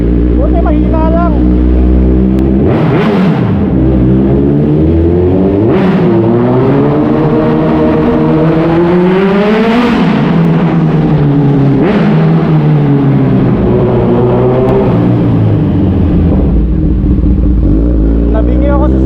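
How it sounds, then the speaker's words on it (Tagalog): A loud motorcycle engine riding along Asin road in Tuba, Benguet, revving up and down repeatedly with rising and falling pitch sweeps, close and dominant, with a voice speaking briefly over it. "Nabingi ako sa sarili kong motor."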